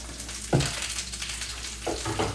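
Meat searing in a hot pan during a keto meal prep gives a steady sizzle, with two short louder bursts as the pieces are moved or turned.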